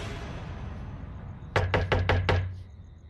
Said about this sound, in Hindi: अभी छलावा दरवाजे पर ही था कि घर का मुख्य दरवाजा जोर जोर से बजा।